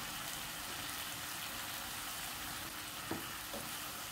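Beef empanada filling with scallions stirred in a frying pan, a constant dense sizzle with an occasional faint scrape of the utensil against the pan.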